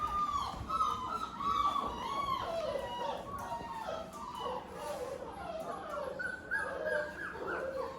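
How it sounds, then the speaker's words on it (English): Three-week-old British Labrador puppies whimper and yip in a high, overlapping chorus of thin whines and small barks that runs on without a break, close and fairly loud. "This is Addie and Willow's puppies."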